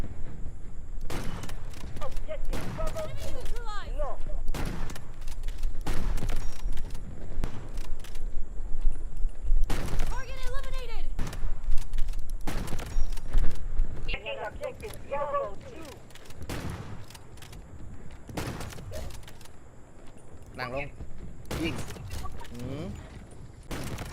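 Gunfire in the shooter game Delta Force: repeated loud sharp shots and bursts spread through the span, some in quick clusters, with excited talking between and over them.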